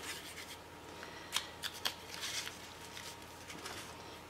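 Scissors snip through string, giving a few quick crisp cuts close by over a quiet room, with light rustling in between.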